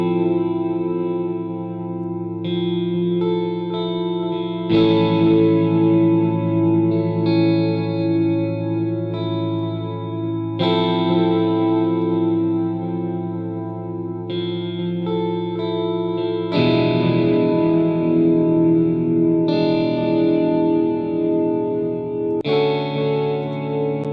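Strat electric guitar chords processed through SampleTank 4 form a layered, effects-heavy texture with chorus and echo, sustained chords shifting in blocks every few seconds, with no talking.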